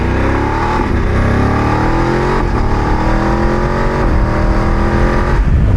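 2024 Voge 900 DSX motorcycle in sports mode, its engine pulling hard through rising revs, with harmonics climbing and dropping at each gear change, loud and steady with wind rush and no talking.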